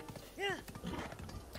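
Horse hooves clip-clopping in The Legend of Zelda: Breath of the Wild, brief rhythmic thuds heard alongside a short whinny and someone talking over the game sounds.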